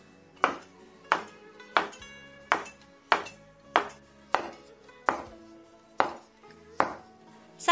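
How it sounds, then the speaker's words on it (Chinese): A knife chops dough into small, even pieces for meat buns, striking the board about a dozen times in a steady, evenly spaced rhythm. Each cut lands as a crisp, close knock with a short ring, and no one talks. "切成大小均匀的小面剂纸"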